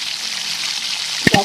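Hot roasted rice semolina hisses steadily in a pan, then two sharp splashing bursts come as jaggery water is poured in at the very end.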